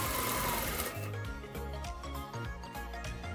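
A sewing machine stitches a flared skirt in short rhythmic bursts, running fast and close, then pausing and restarting several times, with no one talking.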